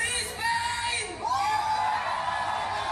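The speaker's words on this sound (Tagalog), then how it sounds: "Ang ingay ng crowd talaga, man." Crowd at a rap battle whoops and yells in a loud wash of cheering, with a voice cutting through briefly before the noisy roar continues.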